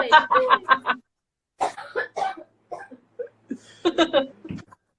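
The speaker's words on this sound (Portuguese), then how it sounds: "Eu vou tossir aqui" A person close by coughs in a quick burst of several harsh hacks, then more scattered coughs and throaty breaths after a pause.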